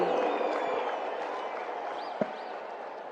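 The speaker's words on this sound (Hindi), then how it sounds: "आइए जोरदार तालियों के साथ आमंत्रित करते हैं" A large crowd claps and cheers steadily at a live golden jubilee celebration in Ahmedabad, Gujarat, welcoming Prime Minister Narendra Modi, with the dense applause holding throughout and a faint voice above it.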